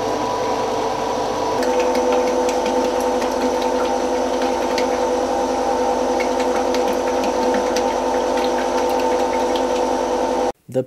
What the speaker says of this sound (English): The pure clay is pumped into blue tanks where it is left to ferment.